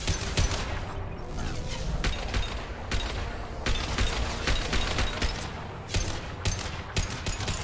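Continuous rapid gunfire in Mass Effect Legendary Edition, dense overlapping shots with a few louder cracks, steady and close throughout.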